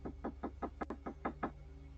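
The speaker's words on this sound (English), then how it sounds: "a suspicious man trespasses and repeatedly bangs on their door" A man bangs on a house door around midnight, delivering about eight evenly spaced knocks at a rapid, insistent pace, close and sharp, captured by a doorbell camera with no talking.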